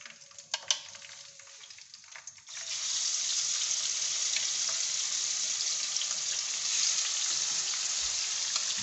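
Fish pieces dropped into very hot oil and frying, a few light clinks and stirring sounds leading into a loud, steady, continuous sizzle that carries on unbroken.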